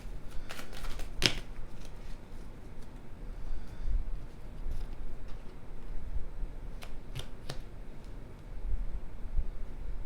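Tarot cards are shuffled by hand in a quiet room, a series of crisp riffles and sharp snapping flicks scattered across the passage, close and moderately loud.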